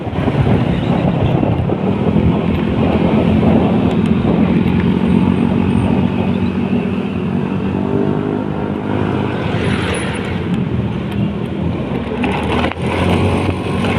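A boat's motor running on open water, a continuous loud engine drone with wind buffeting the microphone and water noise throughout.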